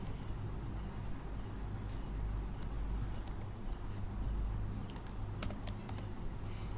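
Someone types code on a computer keyboard, making light, uneven key taps that are faint and somewhat distant. Low road hum runs steadily underneath, and there is no speech.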